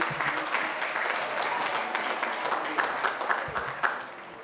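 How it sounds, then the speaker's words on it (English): Graduates and guests applaud their classmates at the Lincoln University Class of 2020 commencement, a steady, moderately distant round of many hands clapping with scattered sharper claps throughout. "let's give your classmates a round of applause"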